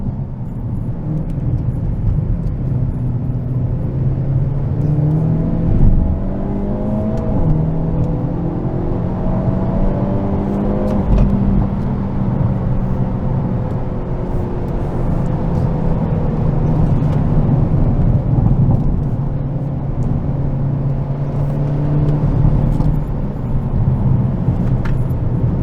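A 2022 Hyundai Elantra N on a race track gives an in-car engine drone that rises and falls as it accelerates through gears out of corners, steady and loud with rumbling road noise throughout.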